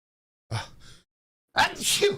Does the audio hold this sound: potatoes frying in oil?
no